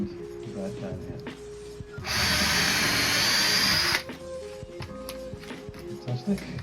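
A power drill bores a pilot hole into wood while a vocal booth is being built, a loud steady whine of about two seconds set between stretches of nearby talking.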